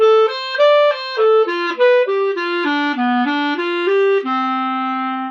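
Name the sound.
clarinet playing a 2-5 lick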